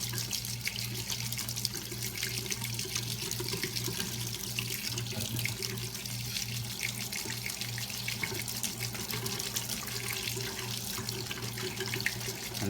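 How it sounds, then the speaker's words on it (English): Tap water runs steadily into a Kuretake Sumi brush pen barrel as it is rinsed out, a continuous close, even rushing stream with a low hum beneath and no voices. "just let a little water run into it"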